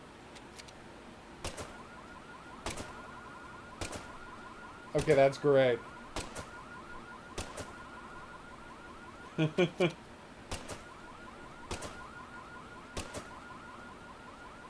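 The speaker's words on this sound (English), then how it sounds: "Just setting off car alarms left and right" A car alarm in the video game Deadly Premonition 2 wails in a steady repeating cycle of tones, moderately loud, with brief louder thumps and short bursts of talk breaking in twice.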